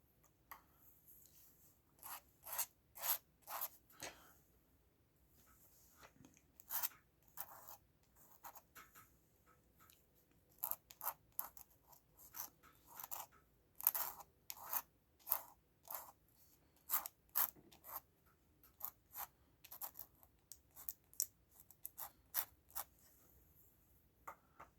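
A pen nib scratches across paper while drawing, close and quiet, in irregular bursts of short strokes separated by brief pauses.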